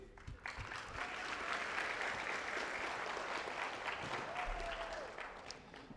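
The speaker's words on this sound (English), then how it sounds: "Guys, can you give a round of applause?" A crowd applauds at a soccer club's senior night, sustained clapping filling the room for several seconds, fairly distant and even in level.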